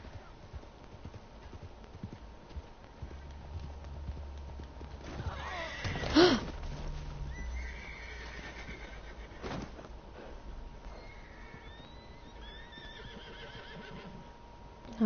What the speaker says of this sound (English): Oh, this poor horse.